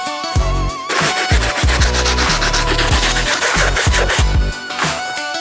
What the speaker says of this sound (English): over to that stiff bristle brush and just get a more deep, effective clean